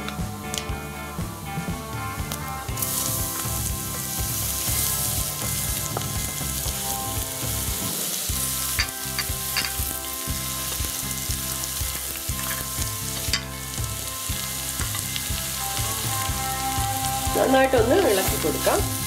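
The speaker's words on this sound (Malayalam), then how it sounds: "ഞാൻ ഇതിലോട്ട് ഇടിച്ചക്ക ചേർത്ത് കൊടുക്കാണ്." Tender jackfruit pieces fry in a pan with mustard seeds, rice, urad dal and dried red chillies, a loud continuous sizzle close by with repeated scraping stirs and a brief pause midway.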